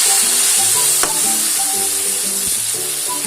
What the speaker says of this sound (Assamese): গলি যোৱালৈকে অকণ ভালকৈ ভাজিব।